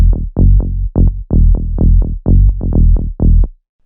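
Synthesized tech house bass line with pitch bend on some notes, filtered to cut resonance and unwanted highs and mids: about ten punchy, evenly spaced notes with downward sweeps, loud and alone, ending in silence.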